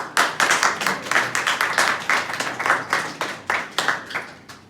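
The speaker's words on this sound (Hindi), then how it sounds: "ताली बजाइए।" A class claps hands in a brisk, rhythmic pattern, each clap sharp and close, fairly loud and steady for several seconds, with no voices over it.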